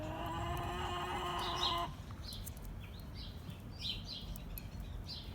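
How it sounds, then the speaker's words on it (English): Hens cluck softly and intermittently over a steady low background hum, with a brief tonal drone fading out early on. "Hens are talkative today."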